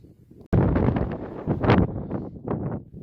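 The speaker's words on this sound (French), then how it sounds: "il fait super froid, il y a un vent glacial" An icy wind on an alpine plateau buffets the microphone in loud, uneven gusts that rise and fall after a quiet start.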